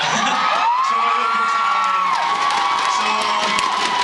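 A large concert crowd cheers and whoops steadily, loud and dense throughout, with high shouts rising above the roar.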